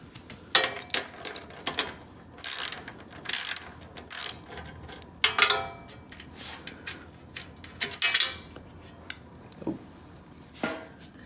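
A ratchet with an extension removes a 12mm nut from the shock mount on a Honda CT90 motorcycle, giving bursts of sharp, close clicking and pawl rattles separated by short pauses.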